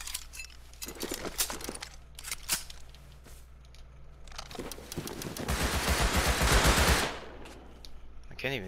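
Video game gunfire crackles in several brief shots early on, then swells into a dense, loud burst of automatic fire mid-clip before cutting off, with voice-like sounds scattered through.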